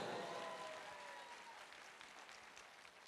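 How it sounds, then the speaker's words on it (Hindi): Steady audience applause at a speech event, a dense wash of many hands clapping that starts full and fades slightly over a few seconds, with no talking. "जोरदार तालियां बनता है दोस्तों।"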